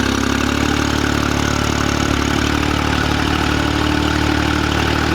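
A small Kubota gas mower engine idles steadily and loudly, a constant close-up mechanical hum with no talking.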